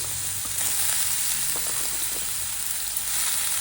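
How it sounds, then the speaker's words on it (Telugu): Bottle gourd pieces fry in a spoonful of oil in a pot, giving a steady, close crackling sizzle with faint stirring throughout. "ఈ గిన్నెలోనే ఒక స్పూన్ ఆయిల్ వేసుకోవాలండి అందులో ఆనపకాయ ముక్కలు వేసుకోవాలి"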